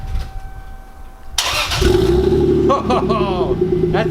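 A starter whirs briefly, then a Toyota Supra Mark 4 twin-turbo engine with an aftermarket Tanabe downpipe catches and settles into a loud, throaty idle, close by, with a voice talking over it.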